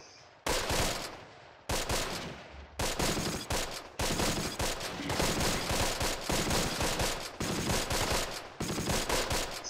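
Gunfire in Close Combat: The Longest Day, a war strategy game: repeated bursts of machine-gun fire and rifle shots in sharp, closely spaced clusters, loud and steady with brief pauses, with no talking.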